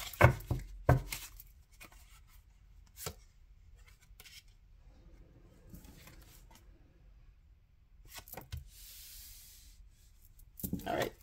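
Tarot cards being shuffled by hand in a quiet room, soft brief rubbing and riffling bursts scattered among near-silent pauses, faint and close.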